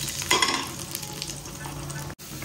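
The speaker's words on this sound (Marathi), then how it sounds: "मस्त फोडणी देऊन घेते पहिल्यांदा भाजीला." Spices tempering in hot oil for a vegetable curry with garlic, green chilli and potato, giving a steady close sizzle with stirring scrapes throughout and a brief dropout near the end.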